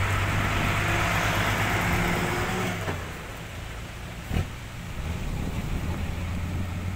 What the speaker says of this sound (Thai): โดยรถไถ2คันครับคันนึงอยู่ข้างหน้าคันนึงอยู่ข้างหลัง